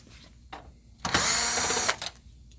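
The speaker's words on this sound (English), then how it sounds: "remove both of those screws" A screw being backed out of a Ricoh MP C-series copier display panel, a short burst of whirring power-driver ratchet lasting under a second, close up, framed by faint clicks and handling noise.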